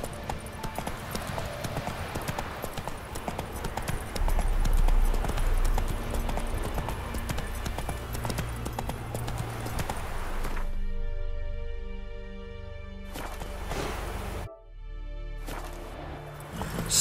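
Horse hooves in The Witcher 3 clatter in a steady, rapid clip-clop under rolling game ambience and music for most of the stretch, then the sound thins into a more tonal passage near the end.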